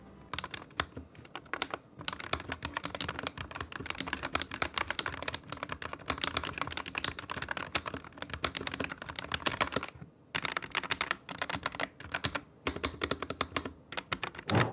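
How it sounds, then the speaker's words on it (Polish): Fast, continuous typing on a Dark Project DPO87 keyboard with factory-lubricated linear switches, soft, smooth keystrokes and a few brief pauses, heard close and quiet with no voices. "Są to przełączniki w pełni liniowe, fabrycznie przesmarowane i bardzo, bardzo płynne."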